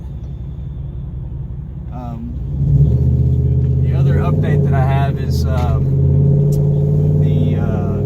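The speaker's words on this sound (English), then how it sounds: "Truck's running pretty good other than that." A truck engine idles steadily in a deep low rumble, then swells louder and stays strong under someone talking nearby.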